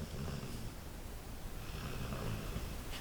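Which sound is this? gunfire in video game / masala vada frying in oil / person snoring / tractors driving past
person snoring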